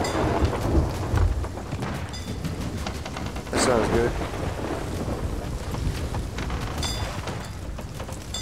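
A Sea of Thieves thunderstorm: constant heavy rain hiss with a thunder crack partway through, close and loud, with some voices faintly underneath.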